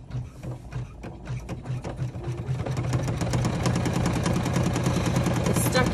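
A sewing machine runs with its thread stuck, so the fabric is not fed forward. It makes a steady, fairly loud mechanical clatter of rapid repeated stitching that grows denser and continuous after the first few seconds.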